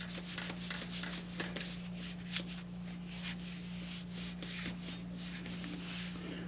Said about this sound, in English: I just got through rubbing in this area right here